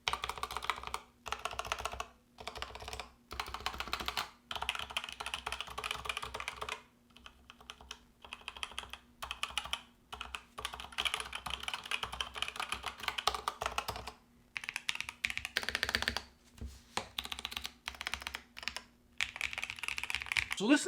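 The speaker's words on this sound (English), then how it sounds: "So listen to that sound test right there." Rapid, steady typing on Razer BlackWidow V4 mechanical keyboards, including a V4 75%, with dense clacking keystrokes broken by short pauses between typing bursts and no speech over it.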